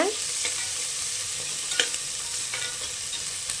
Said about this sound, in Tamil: ரெண்டு வரமிளகா ஆறு பச்சை மிளகா சின்ன வெங்காயம் போட்டு நல்லா வதக்கி விட்டுருங்க